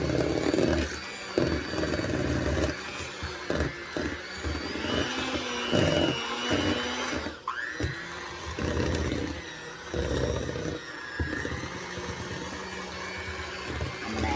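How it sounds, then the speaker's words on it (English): An electric mixer whirs through Nilla Wafer cake batter, a loud motor hum that pulses with stops and restarts, dipping briefly midway before running on steadily. "Now I can still use the mixer."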